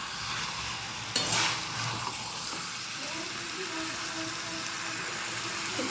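Chicken pieces newly added to a pan sizzle steadily as they are sautéed and stirred, with one sharper scrape or splash early on and a faint hum running underneath.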